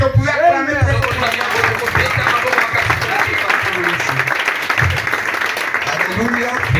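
A church congregation at a Friday worship service cheers and applauds loudly, a dense, continuous wash of clapping and voices that carries on throughout, with a few shouted calls rising over it.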